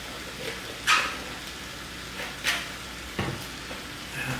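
A spoon stirs eggplant caponata in a pan just after red wine vinegar, balsamic vinegar and sugar go in: a few separate scraping strokes over a faint, quiet sizzle.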